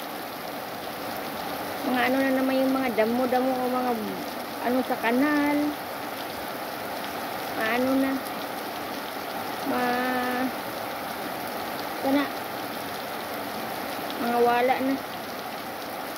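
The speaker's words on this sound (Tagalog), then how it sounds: "Malakas kasi yung ulan eh" Heavy rain keeps up a steady, even hiss across a village while a person talks intermittently over it, the downpour never easing beneath the voice.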